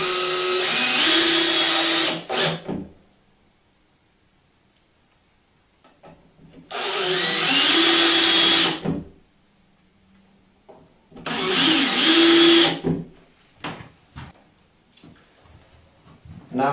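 Three bursts of a power drill driving screws to fix a Neets touch panel mount to a wall, each whirring run lasting a couple of seconds, close and loud, separated by quiet pauses with no talk.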